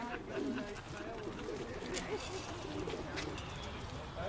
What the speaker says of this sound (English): The male birds are kept separate from the females, and this lot are all ready to go, gently cooing